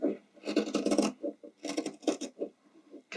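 Sharp scissors snipping through spandex fabric for a costume hem, a series of close, crisp crunching cuts in irregular bursts with short pauses between them.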